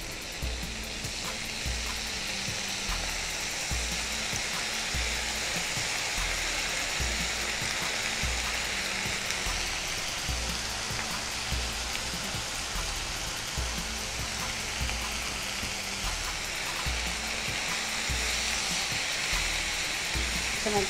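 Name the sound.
cauliflower (gobi) frying in pan with soy sauce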